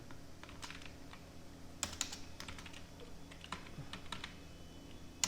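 Rapid keystrokes on a computer keyboard while entering form fields in Microsoft Word 2016, a steady stream of light close clicks with a few sharper taps, alone without talk.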